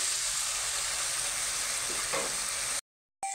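Spice paste sizzling and frying steadily in hot oil for a papaya curry with prawns, a loud continuous crackling hiss that cuts out abruptly near the end and then briefly returns.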